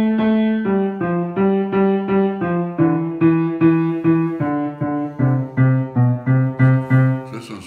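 A Steingraeber piano under voicing plays a slow descending run of single notes with a hollow, barrel-like tone and a trailing overtone. About fifteen even, clear strikes ring close and alone.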